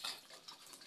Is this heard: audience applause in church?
no